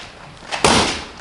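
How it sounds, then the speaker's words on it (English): The driver's door of a 1969 Ford Mustang Grande swings shut with a single soft, solid thump close by, followed by a brief fading rattle and no speech. "Door shuts nice and easy too also."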